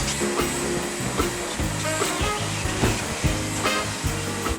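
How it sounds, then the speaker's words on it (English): Vacuum cleaner hoovering the interior of a Mini car, a steady loud motor whine that holds through the whole stretch, with brief bumps and knocks as the nozzle moves over the seats and carpet. "Look what a difference just a bit of a hoovering makes."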